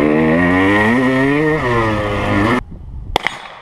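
Old 1983 Husqvarna IT175 two-stroke dirt bike revving nearby, a loud buzzing engine note rising and falling through several throttle blips before cutting off, followed by a brief clack.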